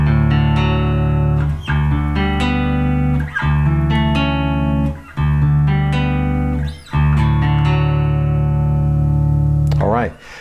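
Fender Bass VI six-string bass played with the neck and bridge pickups together, sustained chords and notes ringing out steadily with brief gaps between phrases, loud and close, no talking.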